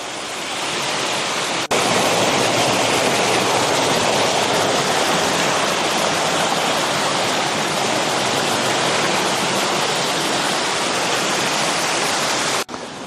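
Creek water flowing over rocks along a backcountry hiking trail, a steady full rushing wash, loud and close, continuous without pause and with no voices.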